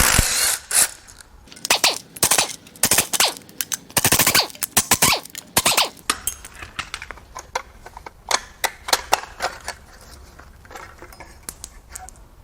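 A hand ratchet clicks in rapid bursts while exhaust manifold bolts come off a blown 6.7 Cummins turbo diesel during a teardown, the loud, close strokes fast at first, then sparser and slower.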